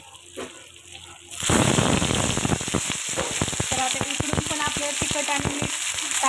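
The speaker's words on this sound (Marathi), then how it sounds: "हे बघा अशी मच्छी फ्राय करायची तेलामध्ये" Freshwater fish rubbed with chili and salt is dropped into hot oil on a tava, erupting into loud sizzling and spattering pops after a quiet start, continuing steadily up close.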